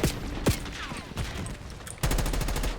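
Gunfire in Call of Duty: Black Ops 6 on PS4 Pro, sharp single shots and a rapid automatic burst near the end, loud and close amid game ambience.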